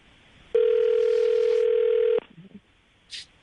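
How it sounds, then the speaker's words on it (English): A telephone dial tone hums loud and steady for under two seconds before cutting off, followed by faint short tones and clicks as a number is dialed. "I'm going to dial the phone number right now"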